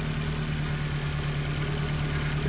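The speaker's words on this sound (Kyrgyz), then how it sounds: "мына мотор оталып турат туурабы?" A used car's engine runs steadily at a car dealership, a close, continuous rumble with a low hum and faint vibration, no revving evident and no talk over it.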